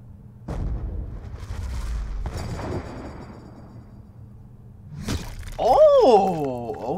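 Gunfire in the Call of Duty: Black Ops 2 campaign: a few sharp booming shots with echoing tails, spaced apart, followed by a rising electronic whine near the end.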